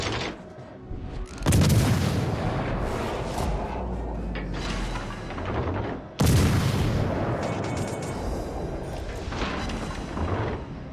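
Heavy naval artillery booms in the World of Warships Legends naval battle game: two loud broadband blasts, each followed by a long rumbling roar of gunfire and shell impacts, with no talk.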